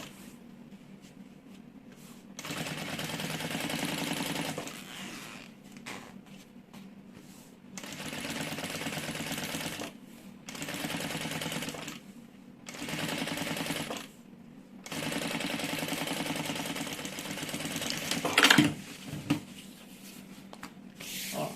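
A sewing machine stitches the lining of a fabric organizer in steady whirring runs of a few seconds each, broken by short quiet pauses, close and moderately loud, with small handling sounds near the end.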